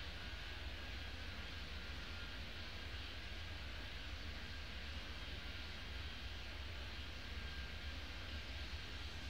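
A faint, steady airplane engine roar in the airport game Airport Madness 3D, with constant broadband noise as a jet takes off from runway 30.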